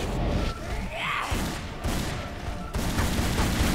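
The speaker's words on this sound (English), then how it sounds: "Homing missiles!" Homing missiles fire and explode in the Tomb Raider: Anniversary video game, a dense, loud barrage of booms and crackling blasts that continues for several seconds in near-continuous bursts.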